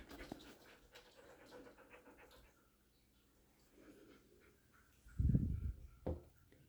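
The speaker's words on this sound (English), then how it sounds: "she's a real nervous dog" A nervous dog pants quietly and unevenly nearby, with soft breaths and a louder burst of snuffling or heavy panting near the end.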